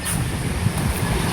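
Wind gusts steadily against the microphone, a rough, rumbling rush of air with no voices.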